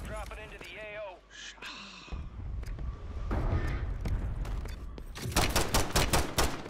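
Gunfire in the shooter game Warzone, a rapid run of sharp shots near the end following scattered cracks, mixed with voices talking over the action.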